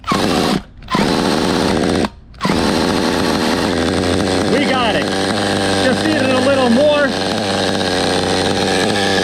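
A small nitro engine in a Schumacher Havoc 28 big block nitro stunt truck with dual exhaust sputters, cuts out briefly twice, then catches and runs without the glow driver, a steady, high-pitched buzzing drone while people talk over it.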